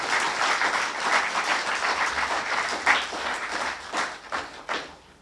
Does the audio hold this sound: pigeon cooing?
no